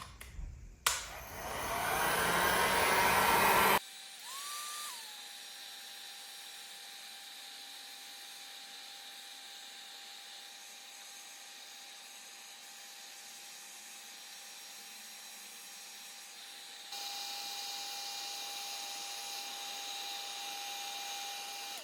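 A heat gun on a low setting warms bubble candles. It opens with a loud, rough rush of air, then settles into a quieter steady blowing hiss with a thin constant whine, rising slightly near the end.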